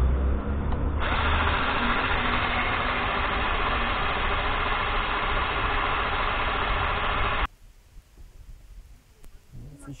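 Power drill running in reverse on a broken cylinder head bolt of a SsangYong engine, a steady loud whine for about seven seconds before it cuts off, leaving faint handling noise.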